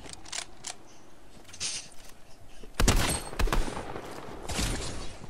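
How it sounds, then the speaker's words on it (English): Gunfire in a Fortnite-style battle royale game, with sharp shots of varying loudness scattered through the clip, including a loud cluster near the middle, over a steady background bed. "Somebody's shooting."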